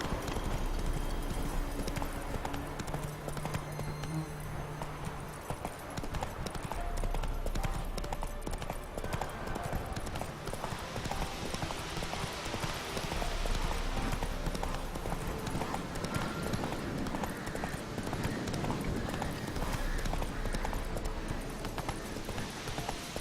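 Horse hooves clip-clopping steadily as a rider travels in the video game Witcher 3, a continuous rhythmic trot carrying through the whole stretch at moderate loudness, alone without talk.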